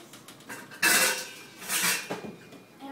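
A colander handled at a kitchen sink while draining microwaved potatoes, giving a few close metallic clanks and rattles, one sharp knock followed by softer clattering.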